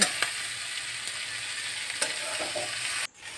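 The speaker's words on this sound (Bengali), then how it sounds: "পেঁয়াজ ভাজা চলছে" Onions frying in a pan give a steady, close sizzle with a few faint stirring clicks, until the sound cuts off abruptly near the end.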